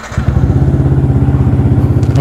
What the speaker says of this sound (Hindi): बाइक स्टार्ट कर रहा हूँ